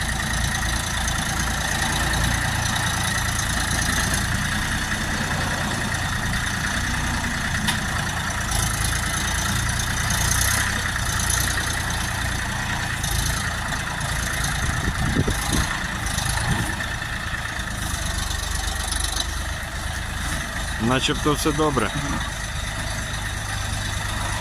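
A 2024 tractor engine idles steadily with a constant low, throbbing rumble throughout, and someone briefly speaks near the end.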